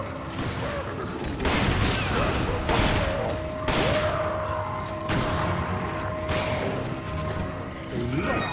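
Magnum handgun shots in the video game Resident Evil 5: about four loud, sharp blasts spaced a second or so apart, each with a ringing tail, over faint game ambience.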